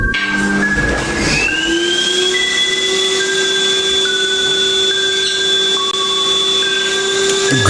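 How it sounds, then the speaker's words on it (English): Vacuum cleaner running, a loud steady roar with a whining tone that rises and shifts in pitch, continuous throughout with no voices. "Ghosts is vacuuming."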